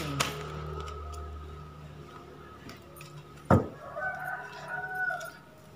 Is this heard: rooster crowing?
yes